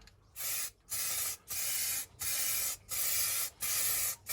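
Short bursts of spray paint hiss onto a jerry can during a first coat in a workshop, six even passes separated by brief pauses, close and steady with no talk.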